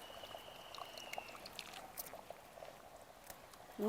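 Tamarind pulp is poured into mutton curry once the oil has risen to the top, producing a soft, steady liquid pour with light bubbling, heard close and alone.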